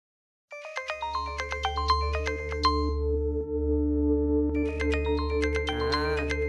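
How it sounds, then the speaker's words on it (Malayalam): A mobile phone ringtone plays loud and close: a bright electronic melody of quick repeating notes over a steady low tone, starting after a moment of silence and continuing to the end. "ആരെങ്കിലും ആ നമ്പറിലേക്ക് ഒന്ന് റിങ് ചെയ്ത് നോക്കിയേ"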